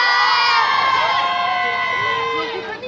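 A large crowd of men cheers, whoops and shouts together, loud and sustained throughout, tapering off slightly at the very end.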